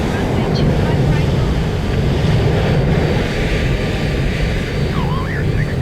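Boeing 787-10 Dreamliner of Garuda Indonesia taking off from Jakarta, a loud, steady, wind-buffeted engine roar up close with a faint whistle in the background.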